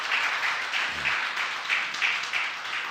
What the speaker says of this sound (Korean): 기쁨으로 크게 환영의 박수